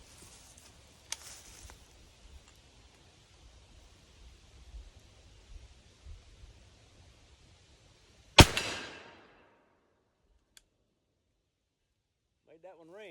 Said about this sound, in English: make some noise down here with a steel plate.